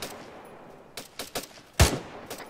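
Rapid gunfire from ArmA 3 during a jungle drill training session, a handful of sharp, spaced shots at moderate distance with one louder, heavier bang.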